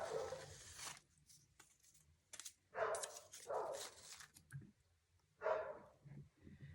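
A dog barks an alert indoors in three short bursts of sharp, close barks separated by quiet pauses, with soft clicks and small noises in between.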